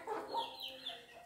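A desi (native village) chicken clucks a few short times nearby, faint and quick, with quiet outdoor background in rural Uttar Pradesh.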